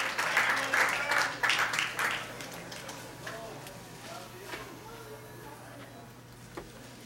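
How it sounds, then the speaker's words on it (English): Audience applause at a hackathon awards ceremony, a burst of clapping loud for about two seconds, then thinning into scattered claps as a speaker talks over it. "So big round of applause for them."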